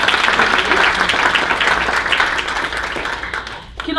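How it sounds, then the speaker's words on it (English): Audience applause at a teaching excellence awards ceremony: dense, sustained clapping from a crowd filling the room, holding steady and then thinning out near the end. "we should have a round of applause"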